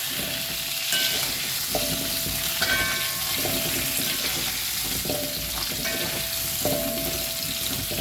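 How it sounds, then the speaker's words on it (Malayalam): Half a kilo of salted gooseberries being stirred in a pan for pickle, a steady frying hiss running under repeated utensil strokes and light knocks against the pan, close and even throughout. "ആ ഉപ്പിട്ടിട്ടൊന്ന് ഇങ്ങനെ ഇളക്കാം"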